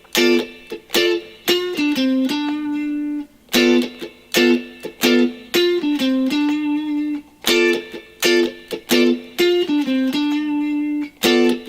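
Funky electric guitar moves from choppy chord stabs to a G ninth voicing, with rapid rhythmic strums, some chords left ringing, repeated in three similar phrases, loud and close with no voices.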